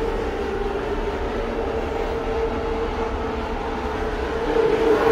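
CSX 5451 diesel locomotive sitting and idling, a steady deep engine rumble with a constant tonal hum, close and unchanging throughout with no talking.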